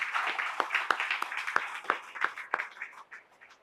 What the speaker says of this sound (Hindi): तो सभी के लिए एक जोरदार तालियां होनी चाहिए।